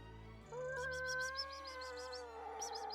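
A cat meows repeatedly in long, drawn-out wails, close and fairly loud, with a steady low hum underneath.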